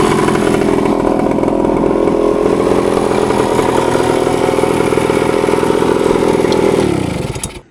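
A 1976 Kawasaki KE100 motorcycle engine runs steadily at high revs for several seconds, loud and close, then quickly winds down and cuts off.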